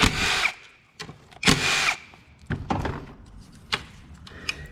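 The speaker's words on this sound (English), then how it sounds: "we're going to take out these two 8mm bolts" Two 8mm bolts are taken out of a 2019-2024 Nissan Altima during alternator replacement, with several short ratchet and tool bursts and metallic clicks close up and no talk.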